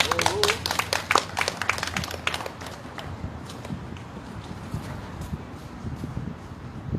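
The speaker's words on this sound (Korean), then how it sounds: "큰 박수를 부탁드립니다." Applause from a crowd at an anti-THAAD candlelight rally in Gimcheon, with dense clapping through the first few seconds that thins into scattered claps and background murmur.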